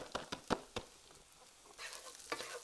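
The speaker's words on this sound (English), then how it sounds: "You really just want to toast up this rice with the onions, the garlic, and the ginger" Rice toasts in a pot with onions, garlic and ginger for Korean fried rice, with several close stirring scrapes at first, then a soft sizzle and more scraping strokes.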